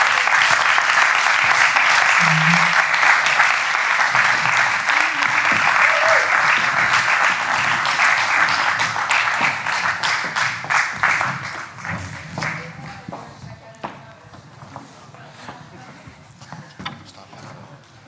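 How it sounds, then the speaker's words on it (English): Audience applause for speakers on stage at a film festival industry talks event: dense, loud clapping that gradually thins into scattered individual claps, with faint voices underneath. "Give them a round of applause."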